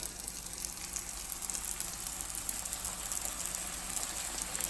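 Steady, hissing sizzle of tortilla chips frying in hot oil, close and fairly quiet, with no talking.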